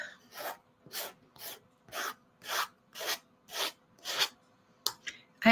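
Hand sanding a small DTF-printed holiday ornament: nine or ten rhythmic raspy strokes at an even pace, close and fairly quiet, ending with a couple of quicker short rubs.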